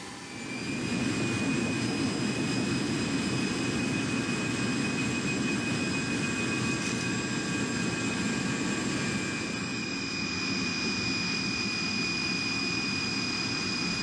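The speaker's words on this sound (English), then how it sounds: "One of those great big Russian military planes that we've all seen in the press" Engines of a huge Russian military cargo plane roar as a steady, loud jet drone with a deep rumble and high whine. The noise holds constant, close and alone, in Angola's Cabinda Province.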